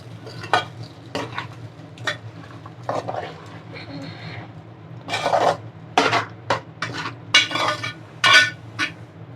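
A spoon scrapes and clinks in bursts against a pan while browned coconut and spices are stirred for a Kerala pumpkin-and-bean erissery. The strokes come irregularly over a low background hum, close and fairly loud.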